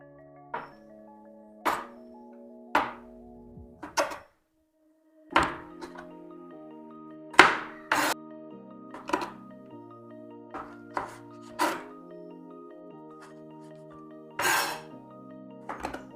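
Medium tomatoes being cut with a knife on a board, heard as a slow series of separate hard thunks with short pauses between them, close and clear, no talking.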